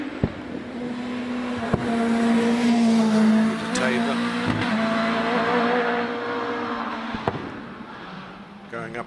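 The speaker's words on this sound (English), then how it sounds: "Peter Tatham, he's got an OMS, 1300cc, supercharged." A supercharged 1300cc OMS race car climbing the Shelsley Walsh hill, its engine holding a steady loud drone that shifts pitch as it accelerates past, with a few sharp pops and a commentator talking over it.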